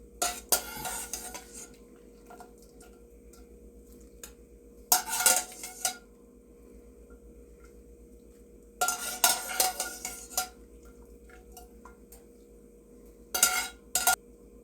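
A spoon stirs pasta in a sauce pot with added pasta water, giving three separate bursts of scraping and clinking against the pot, each lasting about a second, with quiet gaps between them.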